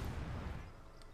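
Low, rumbling mortar fire from a hay mortar battery in the World War II strategy game Company of Heroes 2, a brief, steady dull boom with no separate sharp impacts.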